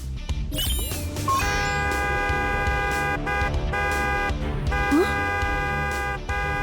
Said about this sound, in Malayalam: ഈ ഹോൺ സൗണ്ട് കേട്ടിട്ട് ആ മോഡലിന് ഒരു അനക്കവും ഇല്ല.